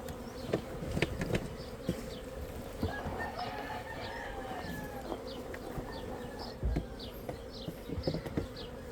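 Honey bees buzz faintly in a steady drone during a bee rescue on a farm, with occasional clunks and handling noises nearby and a chicken clucking in the background.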